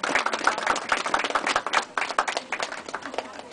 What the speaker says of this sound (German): Applaus für die Maja, bitte.